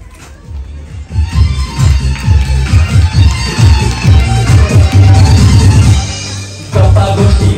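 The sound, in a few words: audience applause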